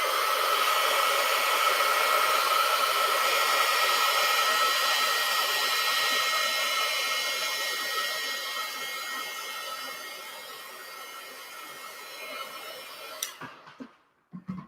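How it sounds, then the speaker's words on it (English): A hair dryer blows steadily on a watercolor journal page, a loud continuous whoosh that slowly fades before cutting off abruptly with a few clicks at the end. "So we're going to turn the dryer on."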